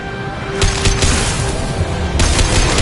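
Sci-fi weapon fire in Mass Effect 2, aimed at tubes: loud, close, sustained bursts of gunfire with a sharper volley rising near the end.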